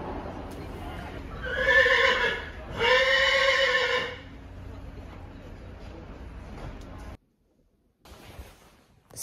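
Horse neighing at an Oslo horse show, two loud drawn-out whinnies in quick succession, followed by quieter stable background and a brief silence.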